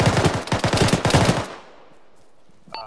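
Rapid automatic gunfire from an Arma military simulation, a dense string of loud close bursts lasting about a second and a half, then a near-silent pause before a faint click.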